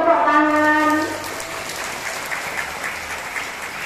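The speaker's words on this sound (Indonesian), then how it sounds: "Terima kasih tepuk tangan." An audience at a school morning literacy session applauds steadily, loud and continuous, after a brief sung or spoken phrase at the start.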